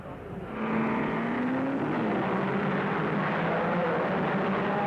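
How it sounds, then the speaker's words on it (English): Mercedes W196 Formula One racing cars of the 1950s roar away at a race start, a loud sustained engine drone building sharply after a quiet moment and holding steady. "The Mercedes of Kling and Fangio led away, followed by Moss and Ascari"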